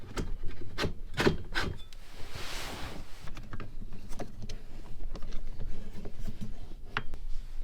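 A homemade swivel table in an RV turned by hand: repeated wooden rubbing and creaking scrapes, close, irregular knocks between them, with no voices.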